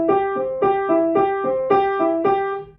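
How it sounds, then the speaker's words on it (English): Piano playing an Alberti bass pattern with a heavy thumb, so the repeated low note sounds clunky and over-accented. Six even broken-chord groups ring out clearly and alone before the last one fades. "it will sound like this, and the G clunks out where the thumb is."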